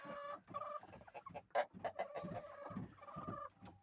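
Broody hens on a small farm keep up low, throaty clucking and murmuring at close range, several soft calls overlapping in uneven bursts.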